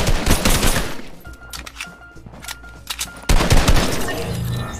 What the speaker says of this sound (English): Oh, get the minigun.